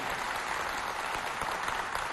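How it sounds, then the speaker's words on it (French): Audience applause at a youth holiday event at the Maison du Quartier de Walia, a steady dense clapping from a crowd that fills the short stretch at an even level. "J'aimerais que vous applaudissiez très très fort pour lui."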